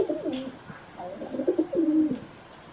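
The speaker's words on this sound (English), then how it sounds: "Yes, it is a pigeon." A pigeon coos in a few soft, rolling phrases, close and clear against a quiet background.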